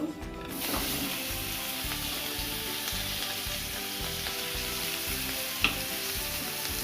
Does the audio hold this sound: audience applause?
no